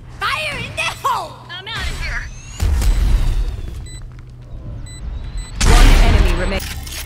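Valorant gunfire and a grenade blast erupt in bursts, with loud booming explosions and rapid shots close by, interspersed with game voice lines and chatter.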